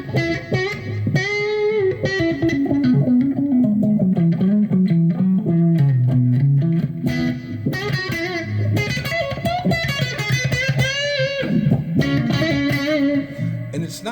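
Electric guitar played through a Polychrome DSP Lumos funk filter pedal, loud and close, with sweeping wah-like filtered notes gliding up and down, then busier chordal phrases with shifting, vocal-sounding tone.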